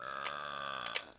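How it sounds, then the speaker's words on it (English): Shrek lets out a long, droning, buzzy burp of fire in the Shrek Extra Large video game, steady and tonal, with a couple of brief clicks near the end. "it basically makes the burp flame pointless"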